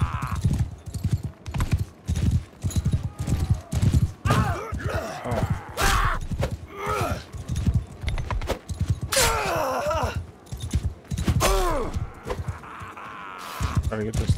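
Rhythmic clip-clop of hooves runs continuously while horses whinny and grunt in Mount & Blade II: Bannerlord, with a voice talking over the busy, loud battle scene.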